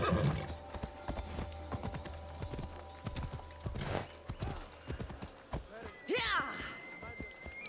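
Horse hooves clop in a quick, uneven rhythm in the Assassin's Creed Odyssey video game, with a horse neighing and whinnying toward the end, under in-game ambience and some voice.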